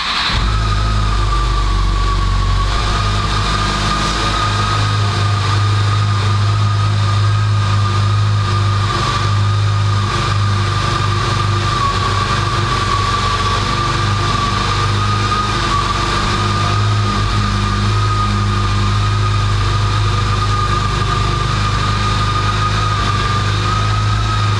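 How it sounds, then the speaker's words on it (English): A 2021 Yamaha FJR 1300 motorcycle's four-cylinder engine settles into a steady, loud idle after starting, a smooth continuous hum held close by with no voices. "Let's go ahead and fire it up and listen how it sounds."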